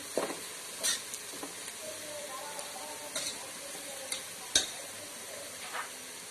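Onions fry in a pan with bay leaves, a quiet steady sizzle broken by occasional scraping stirs and light clinks, fairly faint and close.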